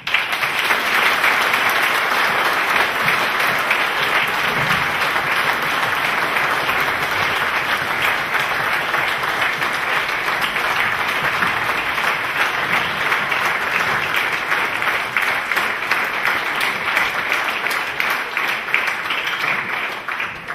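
A lecture audience applauds at length after a talk on agricultural technology in Austria, a dense, steady wash of many hands clapping that stays loud and even throughout with no speech over it.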